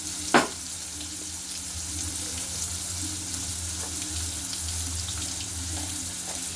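Potato pieces frying in a pan as part of a soybean, potato and chana dal dish, giving a steady, even sizzle throughout with one brief sharp clatter near the start and no talking.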